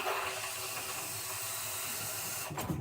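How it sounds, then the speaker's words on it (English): Water hisses steadily out of a water heater's temperature and pressure release valve, a broad, rushing spray holding constant close by, with a few knocks near the end. "Water's coming out."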